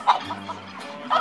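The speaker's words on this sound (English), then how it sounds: "The crows are landing!" Crows arrive and land in a cartoon, giving squawking, gobbling bird calls that are close and fairly loud in short bursts at the start and end, with no speech.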